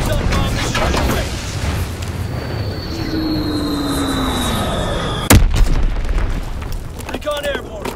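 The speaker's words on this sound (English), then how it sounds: "Azon bomb mission underway." Azon bombs from a bombing run explode in the World War II shooter Call of Duty: WWII, a dense continuous rumble of blasts with a sharp loud crack partway through and faint radio voices mixed in.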